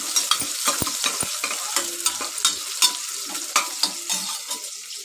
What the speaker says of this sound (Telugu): ఆవాలన్నీ వేగుతున్నాయండి ఎర్రగడ్డ కరివేపాకు వేసుకున్నాను బాగా వేగుతున్నాయండి